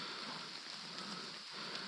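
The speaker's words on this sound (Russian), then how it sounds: "Это, наверное, тут дождь есть, все." Light rain patters steadily in a forest outing for blueberries, a soft, even, hissing wash at a distance with no talking.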